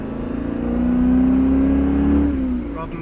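A Maserati 4.7-litre V8 revs up, holds a rising note for about a second and a half and then drops away, loud and close, with faint talk in the background.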